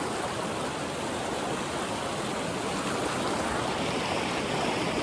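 Steady, full rush of creek water flowing at a ford crossing close by, a continuous broadband wash with no pauses and no voices.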